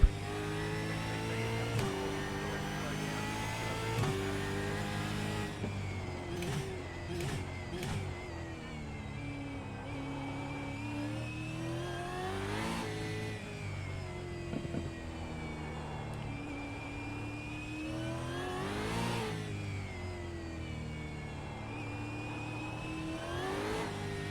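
A race car engine in the iRacing simulator laps the Adelaide Street Circuit, revving hard through the gears with repeated upshifts and downshifts, a steady close-up mechanical drone rising and falling for the whole lap segment.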